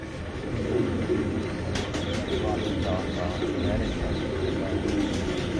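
Lal Pari breeder pigeons coo steadily in a loft, a continuous murmur of soft calls with a few brief chirps rising above, while someone speaks over them throughout.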